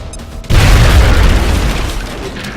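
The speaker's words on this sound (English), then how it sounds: "So I'm going to try and grenade him." Grenade explosion in the video game XCOM: after a short quiet lead-in, a sudden loud, deep boom hits and rumbles on, fading slowly over the next two seconds.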